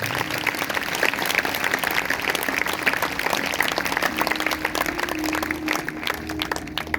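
A crowd claps continuously for several seconds at a Sunday church service, dense and fairly even, with no talking over it.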